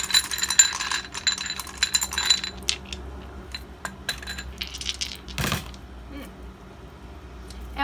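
Dice shifted and rattled around during a card-reading session, a busy clatter of small clicks and knocks early on, then sparse isolated clinks with one sharper rattle, close and fairly loud.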